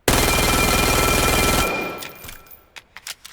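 Rapid-fire gun in the video game Vail, a loud, continuous burst of very fast shots lasting over a second, then fading into a few scattered, sharper reports and clicks.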